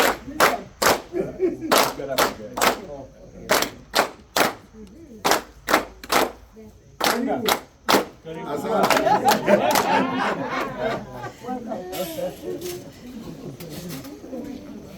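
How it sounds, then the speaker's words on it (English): At an award ceremony, an audience claps in unison in sharp, evenly spaced beats, then breaks into a loose burst of applause and chatter, with voices heard throughout. "Hold on, that's not how we are clapping."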